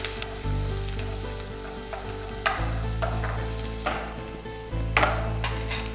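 Crushed garlic, smashed ginger, finely chopped green chillies and curry leaves sizzle steadily in a pan, a continuous frying hiss broken by a few sharp spatula clatters, with no talking.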